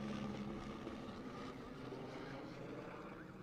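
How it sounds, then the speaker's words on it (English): A helicopter flies over a rugby match involving the Scorpions, its steady droning engine and rotor noise loud and close, holding a low hum with broad rushing wash throughout and no voices over it. "we get our second flyover of the ball game, this time with a helicopter"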